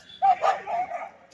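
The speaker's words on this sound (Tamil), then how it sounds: "திடீர்னு நாய் சண்டை போட்டுருச்சு." Dogs snarling and barking in a brief scuffle, a few sharp yelping barks followed by growly whimpering, fairly faint and somewhat distant.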